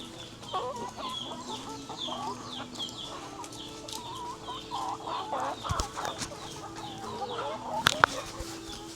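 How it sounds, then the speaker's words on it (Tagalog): Several chickens cluck and murmur close by while eating, soft overlapping calls continuing throughout, with a few sharper clucks and a brief knock near the end. "And minimerienda ng mga manok."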